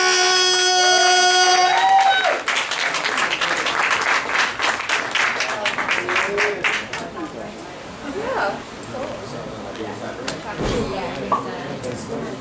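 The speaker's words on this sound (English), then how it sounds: "give a warm round of applause for my guy, Mr. Scoot Harris!" An audience at a cannabis club comedy night breaks into loud applause after a tonal musical sting, with clapping and cheers gradually thinning over several seconds as a voice speaks over them.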